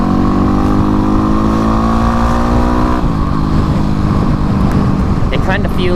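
A Kawasaki KLX351 or Yamaha WR250R dual-sport motorcycle pulling hard at full throttle from around 6,000 RPM, its engine note climbing steadily and loudly, close by with wind roar, then shifting and continuing to rise.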